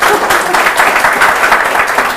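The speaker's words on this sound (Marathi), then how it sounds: "एकदा जोरदार टाळ्या." Loud, steady applause from an audience at an informal talk fills the whole moment, a dense wash of clapping with no gaps.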